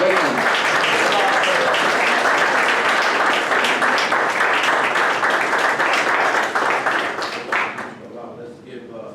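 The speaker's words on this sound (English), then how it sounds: "Help me to bring him on with a round of applause" Loud, sustained applause from a large audience greeting a speaker at a religious gathering, dense clapping that holds for about eight seconds before thinning out, with a brief spoken word mixed in.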